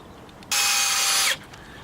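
A power driver sinks a screw into an oak log at a sawmill, a single loud whirring burst lasting under a second against a quiet background.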